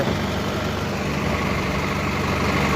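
A tractor engine runs at a steady idle while soil is loaded into it by a JCB. The rumble is continuous, close and fairly loud, with broadband noise and no talk.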